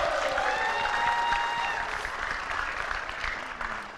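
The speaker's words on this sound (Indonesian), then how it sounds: "Tepuk tangan ya" A studio audience at a televised talk show claps in steady applause, moderately loud and sustained for a few seconds before easing slightly, with no speech over it.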